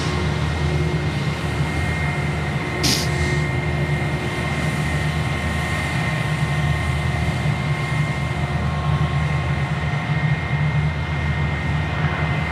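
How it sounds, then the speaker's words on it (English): At Sydney Airport an airliner takes off, its jet engines giving a loud, continuous broad roar with a low rumble that holds steady throughout, and no one talks. "Flight 42, runway 3 for left, cleared for immediate takeoff."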